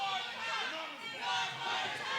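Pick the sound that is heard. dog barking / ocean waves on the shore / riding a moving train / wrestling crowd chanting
wrestling crowd chanting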